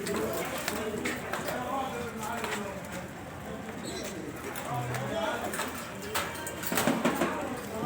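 Domestic pigeons, a breeding pair, give low soft coos at a pigeon dealer's in Alexandria, with a busy, steady background of other birds and a short clip-clop-like knocking throughout.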